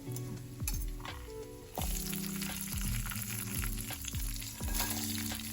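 Cumin seeds, green chilies and coconut roast in a hot pan for coconut chutney, giving a steady close sizzle broken by repeated scraping stirs and a few light clinks of the spoon, with no talking.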